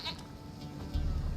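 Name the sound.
goat bleating in the video game The Witcher 3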